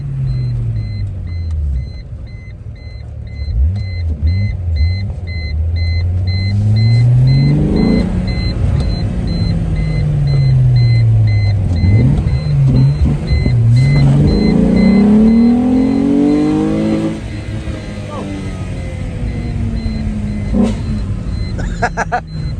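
VW VR6 car engine revving at full throttle, repeated rising and falling rev sweeps, loud and close, with faint talk at times.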